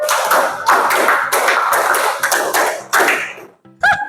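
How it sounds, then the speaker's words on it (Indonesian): A class of students claps in unison in rhythmic bursts: several sharp group claps, loud and close in a room, ending in a brief pause and a final clap. "Tepuk 5 2 kali."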